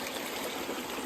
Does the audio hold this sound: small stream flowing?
yes